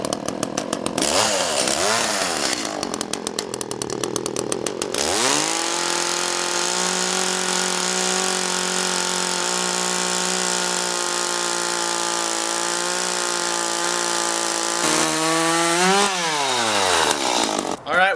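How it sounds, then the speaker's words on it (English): A chainsaw cuts through railroad tie wood outdoors for a workbench build, the engine revving up then holding a loud, strained whine through the cut before easing off and revving again. "We're going to start cutting the pieces with the chainsaw now."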